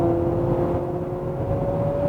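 A 2026 Honda CR-V hybrid with an eCVT accelerates, giving a brief, smooth rising whir and engine hum with a steady tone climbing in pitch and no talking.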